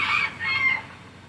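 A rooster crows close and loud, one strained, drawn-out call that fades off toward the end.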